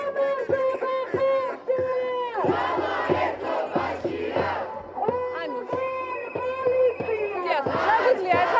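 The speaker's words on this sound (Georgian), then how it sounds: "შეგვიძლია ახლა მოვისმინოთ პირდაპირ ეთერში ამ ადამიანების შეძახილები და ხმაურები" Protest crowd at a solidarity rally outside the theatre university shouting and chanting loudly in rhythmic bursts, voices overlapping with sharp collective cries and continuous crowd noise throughout.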